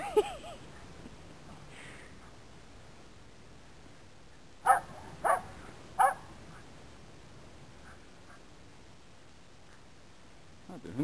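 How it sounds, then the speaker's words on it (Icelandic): A dog barks three times in quick succession, fairly close, against a quiet indoor background with a few faint sounds before and after. "Þetta er hundurinn."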